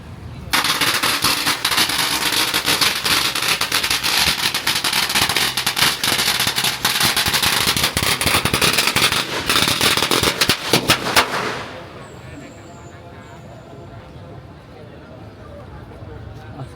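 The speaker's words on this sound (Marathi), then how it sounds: "ह्याच्यात पण फटाके फोडतात" Firecrackers burst at a temple in Phuket, Thailand: a loud, dense, continuous crackle of rapid pops lasting about eleven seconds, then stopping abruptly and leaving quieter ambience with people talking.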